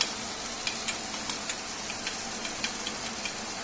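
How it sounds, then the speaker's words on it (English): Minced garlic browns in butter in a pan, giving a soft, even sizzle with light, scattered ticks and pops throughout. "minced garlic, a bit of butter to break it down, just enough to brown the garlic"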